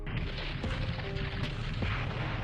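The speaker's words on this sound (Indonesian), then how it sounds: "Villa pun meledak" A villa blowing up in a horror film, a dense rumbling blast with crackling debris and a sustained roar throughout, loud and close.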